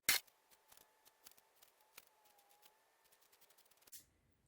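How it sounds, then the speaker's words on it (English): Scissors trim the fabric seam allowance of a sewn strap, making a series of soft, close snips, faint and irregular, in an otherwise quiet room. "then I'm going to trim that out to lay the seam so that there's not so much bulk going into the inside of my strap"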